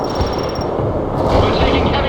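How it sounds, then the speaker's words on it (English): Heavy gunfire and artillery rumble in a dense, continuous wall of battle noise from the real-time strategy game World in Conflict, with voices talking over the combat. "We're taking heavy fire here."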